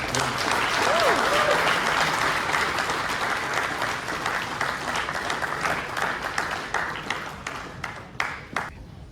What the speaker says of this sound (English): So could I have a big round of applause for Rick?